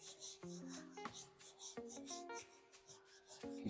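Hand sanding of car body filler with 80-grit paper, moved up and down over a repair: quiet, rhythmic rasping strokes in short bursts, close by, with faint clicks between passes.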